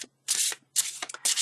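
Tarot cards are shuffled in three quick bursts of crisp riffling and brushing, close and clear, with short pauses between.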